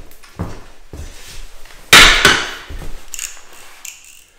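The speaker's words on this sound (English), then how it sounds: "It cuts ever so easy with a sharp knife." A carbide snap-off blade knife cuts through hardboard with a few sharp scoring scrapes and knocks, the loudest a brief rasping rip near the middle, close and clear with no talking.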